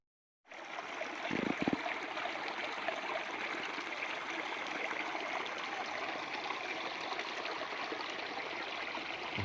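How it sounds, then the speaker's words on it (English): Steady, continuous rush of a mountain stream flowing over rocks, close and fairly loud, with a brief splashy burble near the start as someone plays in the water. "Such a cool sound in the water."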